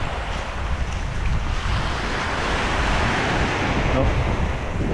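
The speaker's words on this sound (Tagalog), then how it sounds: "Lakas ng alon." Strong ocean waves surge and crash continuously, mixed with steady wind rushing across the microphone.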